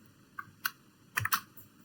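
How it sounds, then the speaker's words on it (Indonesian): Keystrokes on a computer keyboard as a tracert command is entered at a command prompt: a few sparse clicks, then a quick cluster of three or four taps near the end, close and fairly quiet, with no voices. "Pada command prompt ketik tracer dengan alamat ini."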